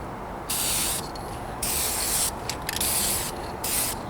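Rattle-can spray paint goes onto the trunk and rear bumper of a 1998 Toyota Corolla outdoors in a light breeze, in four or five close, loud bursts of hiss separated by short pauses.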